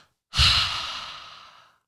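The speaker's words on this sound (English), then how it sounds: "take a big deep breath." A single big deep breath, a long airy exhale that starts abruptly after a short silence, loud and close, then fades out gradually over more than a second.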